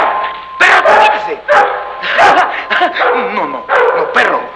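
A dog barks and yips repeatedly in short, loud bursts, close by, mixed with frantic human shouting in a comedy film scene.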